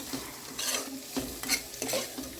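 Upma being stirred in a pan just after salt goes in, a spatula scraping and knocking against the metal in several short strokes over a faint, steady sizzle.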